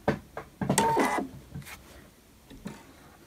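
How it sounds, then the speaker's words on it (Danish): A sewing machine's handwheel is turned by hand to lower the needle into two layers of fabric, giving a few quiet mechanical clicks and whirring ticks close by, then fading to near silence. "Så har jeg lige brugt håndhjulet, lige til at køre nålen ned, hvor jeg har mit samlingspunkt."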